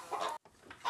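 Chickens on a farm give a short burst of close clucking and fowl calls, broken by a brief silent gap, after which fainter clucks continue.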